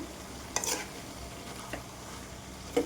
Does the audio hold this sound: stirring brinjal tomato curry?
yes